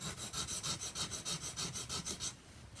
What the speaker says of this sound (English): we're trying to remove metal by using an abrasive system